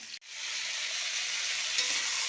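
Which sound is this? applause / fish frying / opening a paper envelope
fish frying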